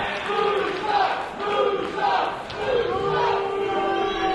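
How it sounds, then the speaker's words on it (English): Fans at a Barrie Wrestling show cheer for the wrestler Musso, loud rising and falling crowd shouts and chants in a hall, with a voice talking over them. "This is the crowd cheering for Musso."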